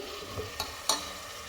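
A few soft scraping stirs as tomatoes are mixed into a frying tempering with ginger-garlic paste, with a quiet frying hiss underneath and no talking.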